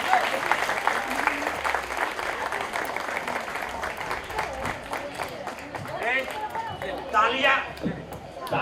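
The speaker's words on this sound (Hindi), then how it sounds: "अरे जोरदार तालियां सर्वेश चौधरी के लिए" A school audience at a special-children's school claps for a first-prize winner, a steady, fairly even burst of applause with crowd chatter mixed in, swelling again near the end.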